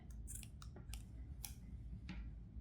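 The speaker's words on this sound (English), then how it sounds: "cut the yarn." Scissors snip through crochet yarn up close: a few quick, crisp clicks and cuts in a short burst, faint and isolated against quiet room tone.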